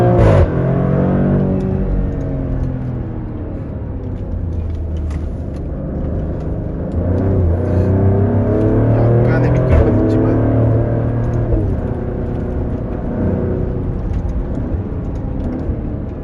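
A Maserati engine paired with an 8-speed automatic revs in sport mode, a loud, steady mechanical drone with rising and falling tones as it pulls through the gears from inside the car.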